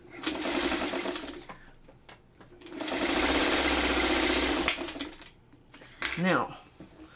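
Sewing machine chain-piecing a quilt block with a leader ender, two sustained runs of steady rapid stitching, near and fairly loud, then rustling and a brief voice near the end.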